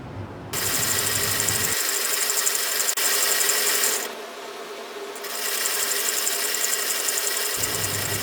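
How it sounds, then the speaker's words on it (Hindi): A sewing machine stitches fabric for a baby boy's shirt, a loud, steady motor whir that runs continuously, shifting tone briefly midway before resuming. "और दोनों तरफ सिलाई लगाएंगे।"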